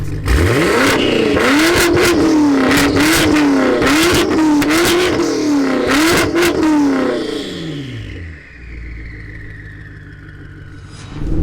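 A 1356 bhp BMW M5 revs hard on a street, its engine note rising and falling in repeated loud surges before cutting off and settling to a quieter idle-like rumble.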